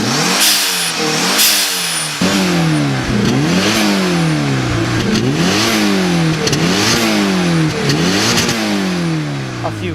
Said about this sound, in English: it's a 2-liter turbocharged dual overhead cam 4-cylinder.